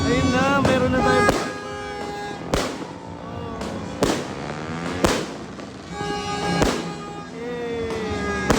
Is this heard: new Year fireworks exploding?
yes